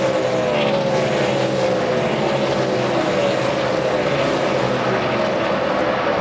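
NASCAR Dodge Charger stock cars racing at the 2005 NEXTEL All-Star Race: a continuous, loud engine roar with a slowly falling whine as the field passes, steady throughout and with no talk.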